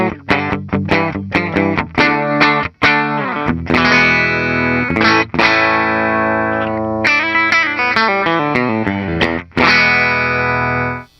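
An Epiphone Zephyr DeLuxe Regent 150th Anniversary electric guitar played through its bridge pickup with effects and distortion, loud strummed chords and picked notes ringing out with sustained, bright, saturated tone.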